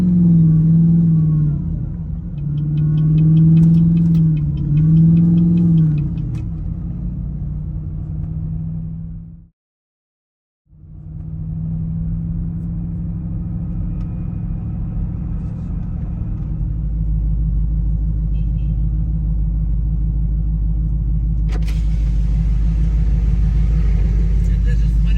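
A custom-built, tuned truck engine rumbles steadily while driving, with rising revs early on, a brief drop to silence, then a sustained deep drone, as people talk over it.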